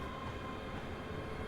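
Train in Train Simulator Classic running on the Glasgow to Dunblane route, a steady, continuous rumble of wheels and carriage noise with a faint tonal whine, even and unbroken throughout with no talk.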